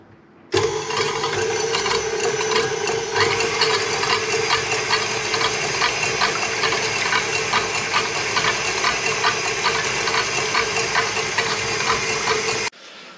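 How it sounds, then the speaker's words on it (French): A stand mixer whips egg whites into stiff peaks for a lemon cake, a loud, steady mechanical whir with a fine rattling texture that starts abruptly and stops abruptly. "j'ai mis mes blancs d'œufs dans le batteur et je vais donc battre les"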